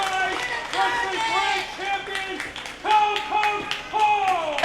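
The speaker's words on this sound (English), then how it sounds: "You can hear this crowd" Crowd at an APWF Evolution professional wrestling event in Indiana, Pennsylvania, with an NWA World Championship at stake: loud, close chanting voices with rising and falling calls, punctuated by bursts of clapping.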